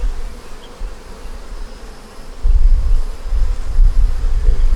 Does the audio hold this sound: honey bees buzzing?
yes